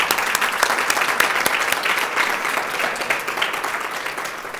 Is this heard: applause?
yes